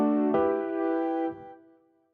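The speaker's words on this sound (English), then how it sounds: "I've just soloed a synth part for this actually." A soloed synth part from a mix of a song, a single bright sustained chord tone struck once, ringing evenly and then cut off, fading into silence.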